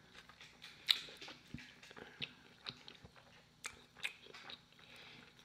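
Quiet close-up chewing of a Five Guys double cheeseburger in a mukbang eating session, with soft irregular bites, squishy mastication and small crunches and lip smacks, no talking.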